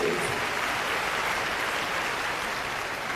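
Steady applause from a crowd at a World Environment Day event fills the space, a continuous wash of clapping with no pauses.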